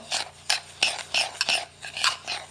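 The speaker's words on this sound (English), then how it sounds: "Now we just mix all the zest with the kosher salt and the sugar." Zest of lemon and lime being stirred into kosher salt and sugar in a bowl, a utensil scraping and clinking in a steady series of short strokes, close and fairly quiet with no talking.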